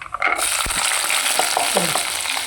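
Chopped ginger, green chili and garlic hit well-heated oil in a pan, giving a loud, close, sustained sizzle broken by scraping stirs as the mix is sautéed.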